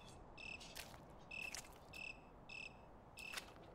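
Crickets chirp in a video game, regular pulsing bursts forming a steady repeating trill over a soft background hiss.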